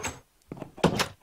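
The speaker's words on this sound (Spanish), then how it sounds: "fijaos en el sonido de la puerta" A door in Minecraft on PS4 opens and closes with short wooden clunks, a soft knock first and then a louder pair of thuds close together.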